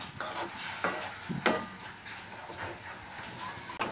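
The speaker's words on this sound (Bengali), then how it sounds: "মশলাটাকে একটু কষিয়ে নেব।" A spatula scrapes and stirs spice paste with garlic paste and a splash of water in a pan, with soft intermittent strokes over a faint, low sizzle.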